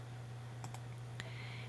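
Quiet computer mouse clicks sound while an image is saved: a couple of faint close clicks, then another, over a steady low electrical hum.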